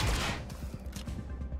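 Rapid bursts of gunfire in the video game XCOM: Chimera Squad, a quick fusillade of shots in succession, loud and up close with no talking.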